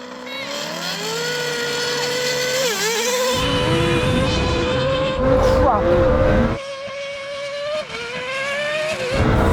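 A Lamborghini and other race cars hold a loud, sustained engine whine as it climbs in pitch, with brief bursts of tyre and rushing noise breaking in partway through.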